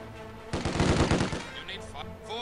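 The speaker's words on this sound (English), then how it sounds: "Heavy machine gun!" In the video game Company of Heroes 2, a heavy machine gun fires a rapid burst of roughly ten sharp, loud shots. Quieter game sounds and faint voices follow after the burst ends.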